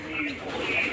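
Domestic pigeons coo steadily at close range in a backyard where birds are kept and fed, a continuous low throaty murmur with faint chirps, and no voices.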